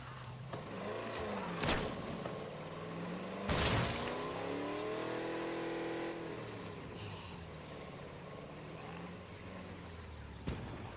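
A car in the video game State of Decay 2 driving off, with a sustained engine drone rising and falling in pitch as it accelerates and a few loud thumps along the way, loud and continuous.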